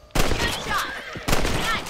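Rifle shots in the Red Dead Redemption game, two loud close bursts with ringing tails.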